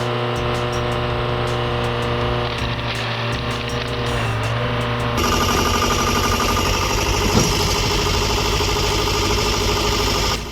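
A firewood processor with a Detroit diesel engine and a 35-inch saw blade runs with a steady, loud engine drone. Partway through, the drone turns rougher and slightly louder.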